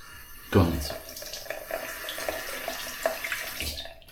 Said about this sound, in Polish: I zimna woda.